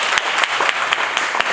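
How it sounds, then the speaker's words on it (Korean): An audience at a poetry recital applauds, a short burst of dense, even hand clapping from a crowd with no voices over it. "큰 박수 부탁드립니다"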